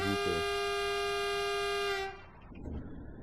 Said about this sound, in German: Das Einzige, was mir halt nicht gefällt, ist die Hupe.